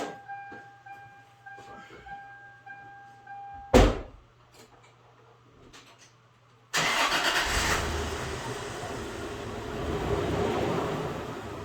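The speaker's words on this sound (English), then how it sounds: "We'll just pull the truck out." A Toyota Tacoma pickup with its bed removed: a short burst as the engine fires, a lull, then a loud steady engine drone as the truck pulls away, close by with no talk.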